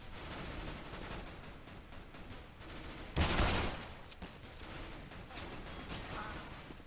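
Gunfire crackles in a Counter-Strike match, a scattered series of faint shots with one louder burst midway.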